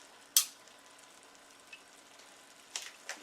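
Red snapper in spicy tomato sauce cooks quietly in a pan, a faint steady sizzle with a few soft clicks and stirring scrapes.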